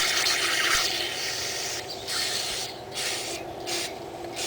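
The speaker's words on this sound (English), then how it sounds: "You can go ahead and spray off the rest of the carburetor too while you're at it." Aerosol cleaner is sprayed onto a carburetor in a long hissing blast followed by several short spurts with brief gaps, close and fairly loud with no talk.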